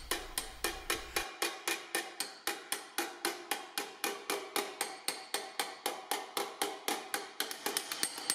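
A hammer beating sheet metal on a polished anvil in metal-forming practice, a fast steady train of sharp ringing metallic strikes, roughly four per second, close and alone for the whole stretch.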